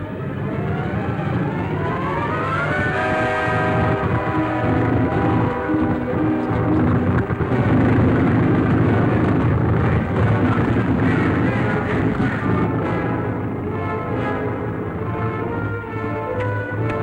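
An airplane engine in flight drones steadily overhead, a loud sustained rumbling hum with wavering harmonics that holds for the full length, rising slightly midway, with no voices over it.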